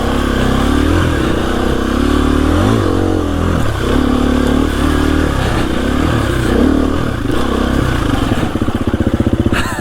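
KTM EXC-F 350 four-stroke dirt bike engine revving loud and close while riding, pitch rising and falling with throttle and a rapid putter near the end, no talk.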